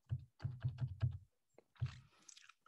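A computer keyboard used to trigger shortcut commands in REAPER audiobook recording software: five quick, close, dull keypresses in a row, then a brief pause and a softer, scratchier press with light rustling.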